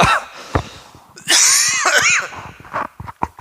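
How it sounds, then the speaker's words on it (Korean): A person with a lingering cough coughs close by during a church sermon in a few harsh bursts, followed by a raspy, wheezy throaty sound and some scattered breathy noises. "내가 지금 기침이 안 떨어지고 있어가지고 이게 되게 오래 가네"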